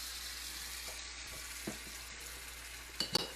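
Tomatoes go into a pan of chickpeas and fry, with a quiet, steady sizzle and a few soft scrapes and clicks from stirring near the end.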